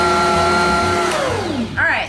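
Stand mixer kneading honey wheat bread dough, running loud and steady with a whirring motor tone that dips and shifts as the speed changes, then a brief rising whine near the end.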